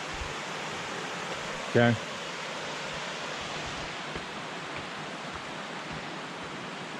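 Steady broadband rush of a waterfall on a Sawtooth Mountains trail in Idaho, a constant close, even roar with no breaks, one short spoken word briefly rising over it.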